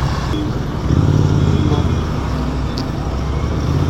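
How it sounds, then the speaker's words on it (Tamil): Steady roar of heavy road traffic on a bypass, a dense wash of passing cars and trucks that stays loud and continuous throughout, heard from a Royal Enfield GT 650 in Tamil Nadu. "பைபாஸ் வர ரொம்ப டிராஃபிக் ஆகி போச்சு"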